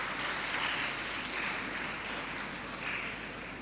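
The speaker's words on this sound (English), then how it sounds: "May I have a round of applause on that line itself" Steady applause from an audience at a Model United Nations opening ceremony, a dense even wash of many hands clapping, fairly quiet and distant, with no voices over it.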